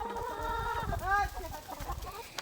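Chickens cluck close by, with one drawn-out squawk in the middle and scattered rustling and footsteps around them.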